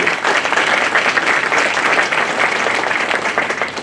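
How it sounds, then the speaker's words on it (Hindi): An indoor audience applauds Rakesh Sehrawat with dense, sustained clapping, loud and unbroken for several seconds before easing slightly at the end. "इसलिए मैं जोरदार तालियों से राकेश सहरावत साहब के लिए चाहूंगा कि"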